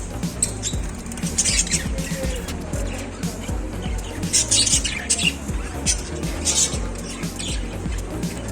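Parrots of different colours, including a white one, in a cowshed give short chirps and squawks, several close by, over a steady background murmur with a person talking.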